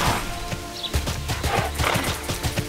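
Hooves of a horse mount clatter in the online role-playing game Tera, a steady clip-clop gait under game music and ambience, with no talking.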